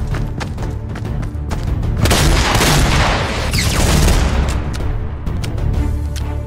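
Video game gunfire and explosions in Fortnite make a dense, loud barrage of shots and booms lasting several seconds, with rapid sharp reports on either side of the heaviest blast.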